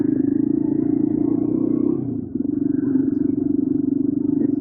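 A motorcycle rides along a dirt road in Algeria, its engine humming steadily with a low pulsing drone and a brief dip midway.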